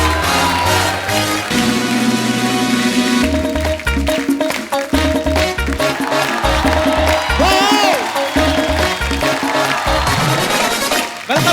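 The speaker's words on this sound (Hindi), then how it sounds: "आप सबकी जोरदार तालियों के बीच please welcome mister Vicky Kaushal" On a television comedy talk show set, a studio audience claps as guests walk on stage, the applause running under loud entrance music with a heavy beat and sung phrases throughout.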